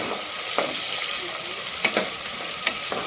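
Onions and bay leaves frying in a pan for kuska rice, a steady close hiss of sizzling oil with a few soft clinks and stirring knocks breaking through at intervals.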